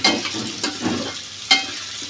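Onion and garlic frying in oil in a pan for prawn and bitter gourd bhaji, with a steady close sizzle and a few sharp stirring scrapes at regular intervals, no voices.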